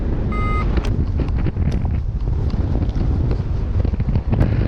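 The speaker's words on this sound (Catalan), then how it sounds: "Vent de cara, que hi ha sud-oest." Strong southwest headwind buffets a paraglider in flight over Bellmunt in January, a loud, steady broadband wind roar against the microphone with gusty surges throughout.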